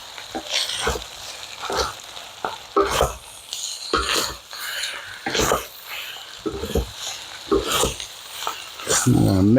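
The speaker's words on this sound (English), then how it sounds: "I'm going to mix those mushrooms in with the rice and the scallions" Mushrooms being stirred into Japanese-style fried rice with scallions in a pan, heard as a run of scraping, clattering strokes with a soft sizzle underneath, close and moderately loud.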